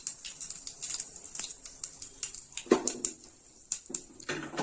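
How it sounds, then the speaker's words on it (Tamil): Small asafoetida granules crackle and pop in hot oil over low heat, sharp irregular snaps over a quiet sizzling background. "அடுப்பு சிம்மில் வச்சிருந்தாலும் இந்த மாதிரி நல்லா நிறைய வெடிக்கும்"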